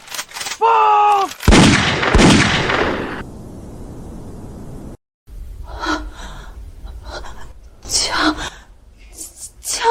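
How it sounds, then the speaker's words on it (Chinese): Gunshots in a drama firing-squad execution scene: loud sharp bursts near the start, followed by strained gasping and breathing, then quieter voices speaking. "枪声"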